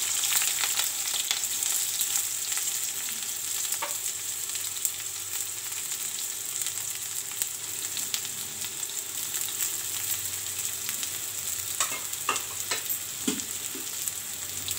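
Green chillies sizzle and fry steadily in a hot pan for chowmein, a continuous close crackling hiss with a few sharper pops near the end and no talking.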